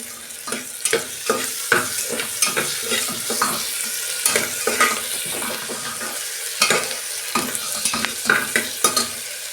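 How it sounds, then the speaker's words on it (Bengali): Salted onions frying in a pan for a vegetable and chicken dish, a loud close sizzle broken by repeated rhythmic stirring scrapes and pops, with no one speaking. "দু মিনিট আমি ভেজে নেব।"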